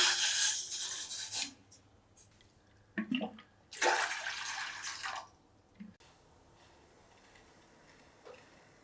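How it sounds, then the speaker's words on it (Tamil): Water is poured into a pot in two splashy bursts with a short pause between them, followed by quiet. "2 கப் தண்ணி சேர்த்துக்கலாம்."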